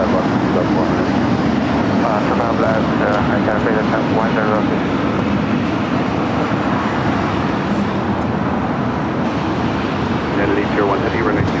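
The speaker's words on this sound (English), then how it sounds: "We have a Delta 330 Neo taking off on 24 left" A Delta Airbus A330neo takes off on runway 24 left at LAX, its steady jet roar filling the whole stretch under wind and traffic noise, with people talking over it.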